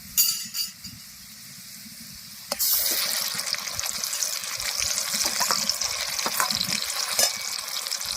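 Dried red chillies fry in hot oil in a pan as fresh coriander leaves go in for a pickle, a steady close sizzle that swells sharply louder after a few seconds, with occasional stirring clinks.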